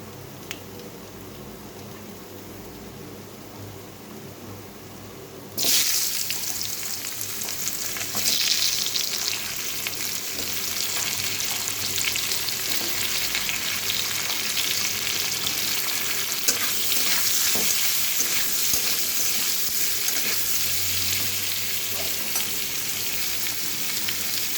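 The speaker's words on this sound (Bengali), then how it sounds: "এটা এখন সবজিটা ভালো করে ভাজা হয়ে গেছে।" Chopped vegetables fry and get stirred in a hot pan with cumin, a steady close sizzle that starts abruptly after a quiet opening and continues with scraping stirs throughout.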